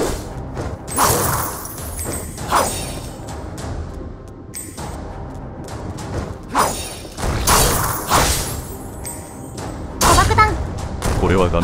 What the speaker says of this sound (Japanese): これは画面奥の大砲から撃たれているようだな。